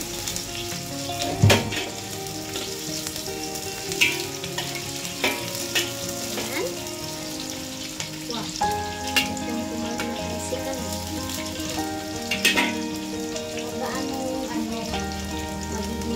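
Garlic sizzles and fries steadily in a pan for pork adobo, a continuous close hiss with occasional pops and crackles and a few utensil clinks. No one speaks over it.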